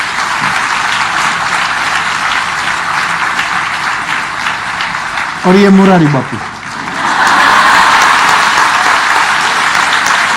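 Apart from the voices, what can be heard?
audience applause at Ram Katha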